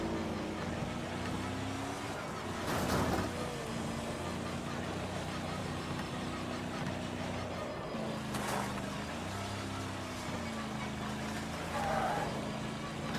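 A truck engine in the racing game Wreckfest drones steadily at a low pitch, its revs rising and dipping a few times, with brief bursts of louder noise, all fairly quiet under faint background sound.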